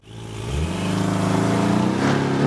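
A Subaru engine revs up through its exhaust, climbing from a low rumble into a loud, sustained, burbly drone with rising pitch, close and steady, with no voices present.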